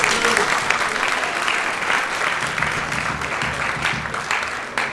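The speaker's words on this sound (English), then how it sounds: "multiple ladies at the top of the conference already deserves a round of applause." Audience at the 2023 Swarm Awards conference ceremony breaks into loud, sustained applause, a thick and steady roar of many hands clapping close by, with no voices rising above it.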